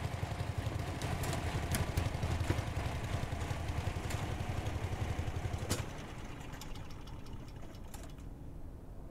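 Mechanical motor running in The Medium horror game, a steady rattling, knocking chug with rapid clatter that fades slightly partway through, continuous and fairly close with no voices.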